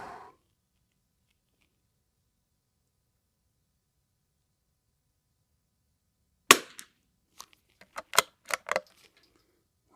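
A CZ455 Trainer rimfire rifle fires at an outdoor range: after a long silence, about eight sharp, dry cracks come in a quick, uneven string, fairly faint and clipped, with no talking.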